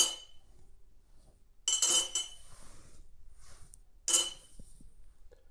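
A knife, fork and pen dropped into a cup make two short, bright bursts of metallic clinking and clattering, close by with quiet pauses between them and no talk.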